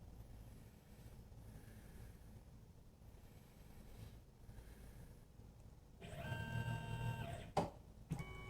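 A Tormach PCNC 1100 CNC mill runs a program with nothing in the vise: a low, quiet machine hum, then rising motor whine with tonal steps and a few sharp clunks toward the end.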